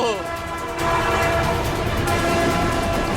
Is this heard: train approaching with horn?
yes